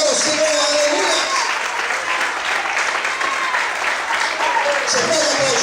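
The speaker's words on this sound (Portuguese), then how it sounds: "Será que você pode aplaudir e glorificar o Senhor?" Church congregation applauding steadily during a Portuguese-language sermon, a loud dense wash of clapping throughout with voices calling out over it.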